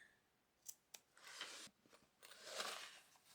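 Scissors snipping notches into sewn fabric for a mini handbag, a few quick close blade clicks followed by two longer crisp cutting strokes, quiet and alone.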